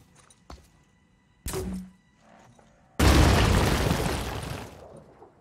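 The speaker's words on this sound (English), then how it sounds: "You lob a grenade" A grenade explodes in the Phoenix Point video game with a loud, sustained blast that rolls on for over a second after a few smaller thuds and pops.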